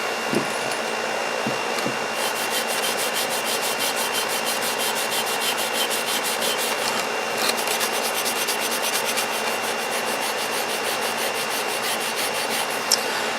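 Steady, continuous rasping scrape of hand sanding rust off an old axe head, close and loud with an even rhythm throughout, no talk.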